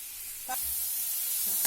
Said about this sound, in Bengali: এবার বেগুনও দিয়ে দিয়েছি